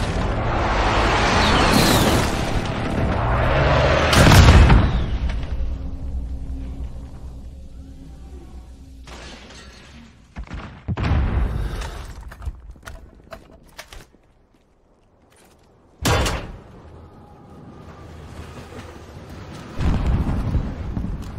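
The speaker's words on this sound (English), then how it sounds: "Friendly precision airstrike inbound." Precision airstrike explosions in the multiplayer shooter Call of Duty Modern Warfare: a loud rumbling blast at the start, then scattered booms and sharp cracks with quiet gaps between them, some near and some distant.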